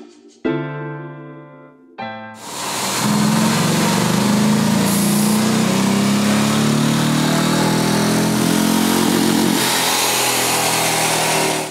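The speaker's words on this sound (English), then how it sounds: "The Royal Enfield Classic 350 didn't break down after two full throttle runs." A Royal Enfield Classic 350 motorcycle on a dyno: a couple of brief engine blips, then the single-cylinder engine roars at full throttle, loud, close and sustained, with the pitch climbing steadily for about nine seconds before cutting off.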